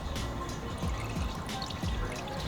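Watery coolant pours and trickles out of a Honda S2000 engine with a suspected blown head gasket, a quiet, close, steady liquid stream with faint splashing drips.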